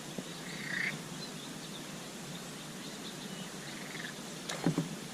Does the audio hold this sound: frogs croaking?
yes